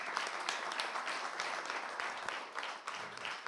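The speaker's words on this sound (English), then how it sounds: "may I ask all of us give a big applause to all of the speakers in this" Applause from the audience at an expert meeting on revising the WMA Declaration of Taipei, a moderate wash of clapping from a sizable room with uneven bursts that fades slightly toward the end.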